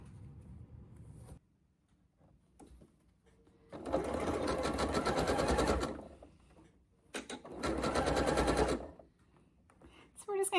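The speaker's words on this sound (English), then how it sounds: "We're just going to sew all the way down to the bottom. Make sure we backstitch." Sewing machine stitching elastic onto a dress bodice, running in two loud sustained bursts of rapid mechanical stitching separated by quiet pauses, with soft handling noises in between.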